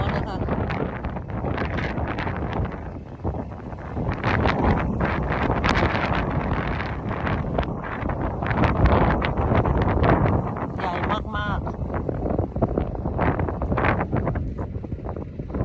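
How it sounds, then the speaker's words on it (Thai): Strong wind on a Danish farm buffets and roars across the microphone in continuous gusty blasts, near and loud, with a voice partly buried beneath it. "ลมแรงหน่อยขออภัยนะคะ"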